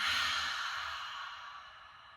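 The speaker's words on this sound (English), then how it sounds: "And let's take a big, full, deep breath together. Big inhale and exhale." One big, full yoga breath, drawn in and then let out in a long, airy, sighing exhale that fades over about two seconds, close to the microphone with no talking.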